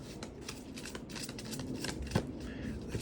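Tarot cards being shuffled by hand, a rapid flurry of crisp papery riffles and flicks, close and continuous for a few seconds.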